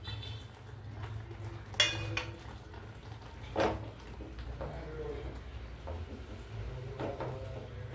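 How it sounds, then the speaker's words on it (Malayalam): Beetroot curry with grated coconut stirred in a pan: a spoon scrapes and knocks against the metal, with two sharper clanks standing out among softer clinks and shuffling. "ഇനി നമുക്ക് നന്നായിട്ട് മിക്സ് ചെയ്യാം"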